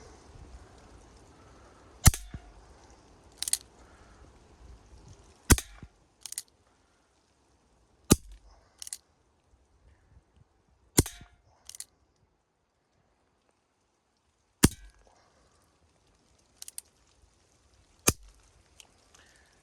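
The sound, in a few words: Umarex Colt Single Action Army CO2 air pistol shots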